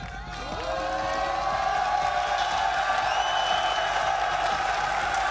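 A large crowd cheers and applauds at a Nation Wars esports tournament semi-final in Paris, a steady, loud roar of voices and clapping that swells in after the first half second and holds throughout.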